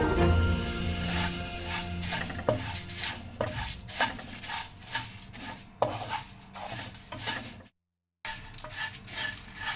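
Roasted flattened rice (aval) is stirred in a pan for a crispy mixture, producing repeated rhythmic dry scraping and rustling strokes with faint sizzle, briefly pausing near the end.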